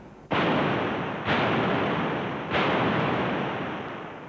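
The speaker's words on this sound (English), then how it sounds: "Heavy artillery was used by both sides in the set-piece battles and sieges of the first 6 months of the war" Heavy artillery guns firing, three loud booming blasts at roughly one-second intervals, each with a long rolling decay, close and forceful with no voices.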